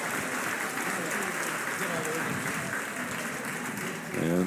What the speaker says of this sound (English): The sophomore Chase Martin will exit to a standing ovation from his crowd.